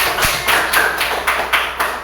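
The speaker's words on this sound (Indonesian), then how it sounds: "Tepuk tangan untuk semua" Children in a classroom clap together in a rhythmic pattern, a series of sharp, evenly spaced group claps about four per second, close and loud.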